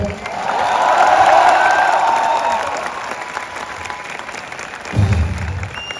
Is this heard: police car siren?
no